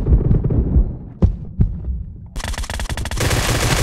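Gunfire in a shooter video game during a team deathmatch round: heavy booming shots and single cracks, then a sustained rapid automatic burst, loud and close.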